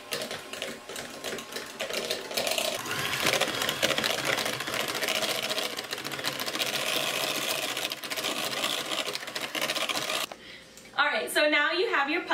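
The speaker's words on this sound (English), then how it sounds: "take a regular kitchen mixer and you're going to mix it up into a puree" A regular kitchen mixer purees roasted pumpkin meat with a loud, steady motor whir that runs continuously for about ten seconds, then cuts out before a voice begins speaking.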